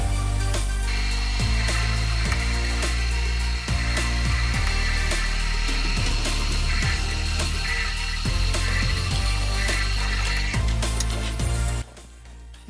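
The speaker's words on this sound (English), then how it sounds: "Now we drill holes for the retaining pins." A power drill whines continuously as it bores holes for retaining pins on a Polaris Ranger snowplow's rolling feet, with repeated surges in load before stopping abruptly near the end.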